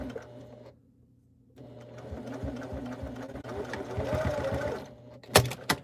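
A sewing machine stitching a tote bag: a close, rapid mechanical whir with a rhythmic needle patter that starts, runs steadily and ends in a sharp clack.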